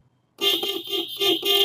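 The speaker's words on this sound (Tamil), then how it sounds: "அங்க ஆட்டோ வருது, ஹாரன் கொடுத்தாச்சு." A driving-school car blows its horn while rounding a bend with an auto-rickshaw approaching, giving a loud sustained honk with a brief dip and a second press, clear and close with no talk.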